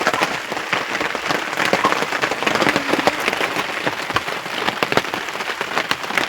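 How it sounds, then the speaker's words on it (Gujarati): Steady rain falls hard in a Gujarati village during a monsoon downpour, a dense, continuous patter on surfaces that stays constant throughout, with no voices heard. "વરસાદ જો"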